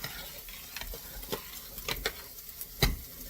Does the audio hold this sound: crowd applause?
no